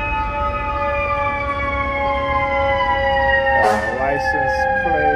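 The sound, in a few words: siren of an undercover NYPD vehicle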